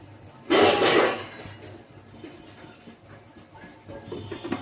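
A metal lid clatters onto a cooking pot in one loud clanking burst, then quieter kitchen handling and soft rustles follow.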